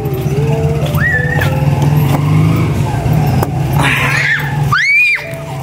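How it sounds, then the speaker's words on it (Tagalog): A motorized tricycle drives past on a street after a typhoon, its engine drone steady and fairly loud throughout, with whistles or squeals rising over the top and a sharp sweep near the end as it pulls away. "tricycle."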